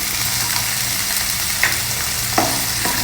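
Peeled shallots and a green chili frying in oil, a close, steady sizzle with a few scraping stirs of a utensil against the pan.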